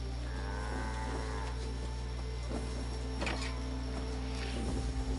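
A cow in the post-apocalyptic game Fallout 76 gives a low, drawn-out moo over a steady mechanical hum and game ambience, with a few faint clicks and thuds, no voices.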